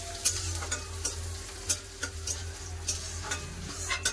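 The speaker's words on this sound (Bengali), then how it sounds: "পেঁয়াজটা ভালো করে লাল করে ভেজে নেবো" Chopped onions and a green chili frying in oil in a pan, stirred with repeated light scraping strokes over a quiet, continuous sizzle, close by and fairly soft.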